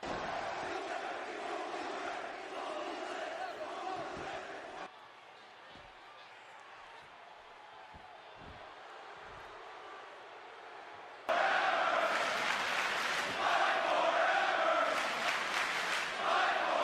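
A loud crowd in the wrestling video game Fight Forever roars and chants in an arena, dropping to a quieter murmur midway before surging back louder.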